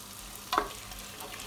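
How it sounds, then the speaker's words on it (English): Onions and garlic frying over high heat in a pan for Chinese chicken curry, a soft continuous sizzle with one brief stirring scrape near the middle, no voices. "You always need salt when you're frying onions"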